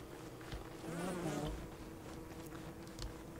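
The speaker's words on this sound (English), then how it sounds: "there's killer bees that are just hanging out here." Killer bees buzz in Don't Starve: Reign of Giants, a wavering insect drone that swells briefly then settles into a steady faint hum over light ambient game noise.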